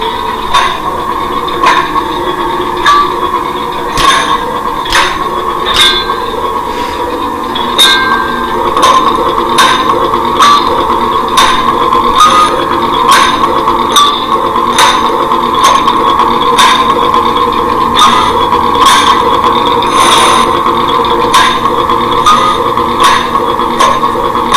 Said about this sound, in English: You've got your clashes, which are hammer hits.